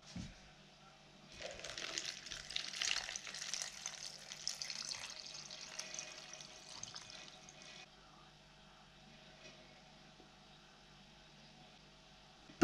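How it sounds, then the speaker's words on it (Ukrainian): Salted well water pours steadily over mushrooms in a container from close by for several seconds, a soft splashing stream that tapers off into quiet. "Заливаємо гриби солоною колодязною водою."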